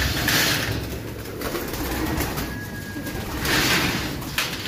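Pigeons coo in a loft, soft repeated calls over a steady background hum, with a couple of louder bursts near the start and end.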